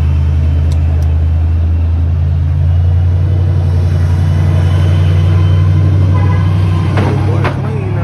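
A Chevrolet Malibu's engine idles steadily at a gas stop near Birmingham, Alabama, a constant low rumble running loud and unbroken from start to finish with faint background noise above it.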